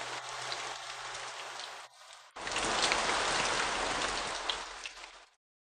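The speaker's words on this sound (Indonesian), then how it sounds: "Di luar hujan sangat deras." Heavy rain pours steadily outside, a dense, loud wash of drops on surfaces that briefly dips quieter before surging back strong and continuous.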